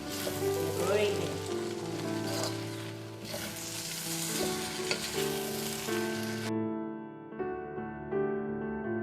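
Spicy mee goreng noodles with a fried egg frying in a pan, a loud steady sizzle and crackle with stirring, plus a faint tonal hum. The frying drops away sharply near the end.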